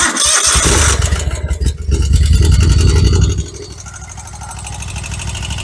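A Kohler Command engine on a Dixon 5022 zero-turn mower, which smells of gas and is low on power, cranks and sputters into a rough, uneven run, close and loud, then drops to a lower steady idle.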